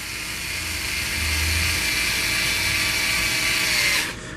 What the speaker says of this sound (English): it's have just the lowest power setting possible to do on an electric screwdriver